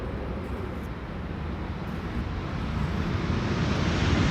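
A KLM passenger jet arriving at Amsterdam Schiphol after a flight from Atlanta, heard as a broad, steady engine roar that swells gradually louder toward the end, with no talking over it.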